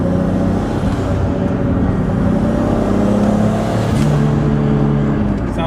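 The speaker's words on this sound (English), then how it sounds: "I want to hear some turbo noises." Toyota Supra with a T56 manual transmission pulls hard under acceleration, a loud steady engine drone with shifting harmonic bands heard from inside the car, continuous for several seconds with no talk.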